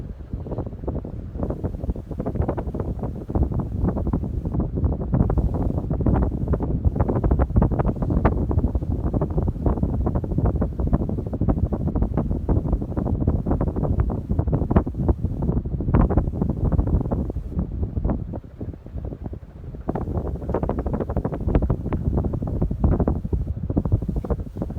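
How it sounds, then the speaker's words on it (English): A Hunter Summer Breeze 48-inch ceiling fan runs steadily, giving a dense, continuous whooshing rumble of moving air close to the microphone, with one brief dip in level before the broad noise resumes. "Okay, I'm going to go ahead and shut off the fan."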